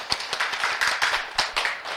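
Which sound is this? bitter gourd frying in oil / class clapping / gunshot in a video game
class clapping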